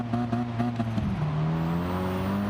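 Ford Escort RS Cosworth engine in Gran Turismo 7, a loud steady rasping drone with harmonic bands that dips and then settles into a sustained higher tone, close and continuous with no talking.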